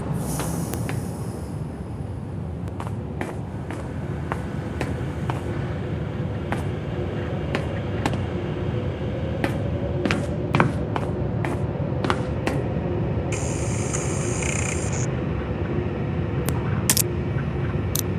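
A ride train in the Zoochosis zoo horror game starts up and runs toward the giraffe enclosure, a steady low rumble with repeated sharp clicks and clacks and a brief higher whine partway through, continuous and fairly close.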